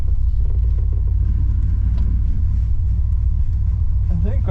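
A 1964 Oldsmobile 98 engine running as the car sets off, a steady low rumble that stays close and even throughout.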